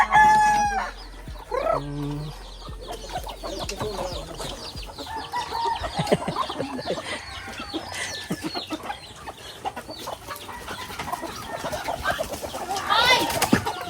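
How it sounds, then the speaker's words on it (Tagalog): A flock of chickens being fed at feeding time clucks and squabbles over food close by, with a rooster crowing early on and busy pecking and cackling throughout, while a person occasionally speaks in the background. "Papakain na ng manok ko."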